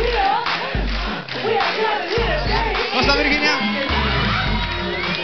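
A studio audience on a Spanish-language talk show cheers and whoops with scattered clapping as a guest named Virginia is welcomed, a loud lively crowd mixed under a host's spoken greeting.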